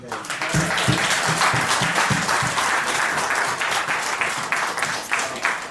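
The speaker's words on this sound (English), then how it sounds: "I want a big round of applause for them." A seated audience at a question-and-answer event with lawyer Ousainou Darboe gives a big round of applause, loud sustained clapping with a steady dense patter filling the room throughout.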